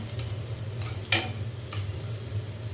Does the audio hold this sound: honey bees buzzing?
no